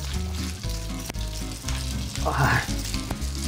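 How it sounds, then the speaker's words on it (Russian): Carbonara ingredients sizzle and crackle steadily in a hot frying pan, with a brief louder hiss partway through and occasional stirring clinks. "она еще шкварчит"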